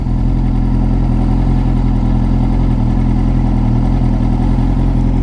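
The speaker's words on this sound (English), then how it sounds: "once this thing gets up to, I think it's 101 or 102 degrees centigrade, the cooling fan kicks on." A 2004 Triumph Daytona 600 motorcycle idles loudly and steadily at close range with a constant low engine hum, its electric cooling fan whirring under the drone after the engine reaches operating temperature.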